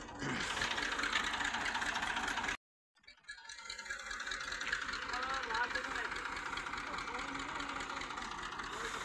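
A tractor stuck in mud runs its engine loud and continuous nearby, cuts out abruptly for a moment, then rumbles back up to a steady idle.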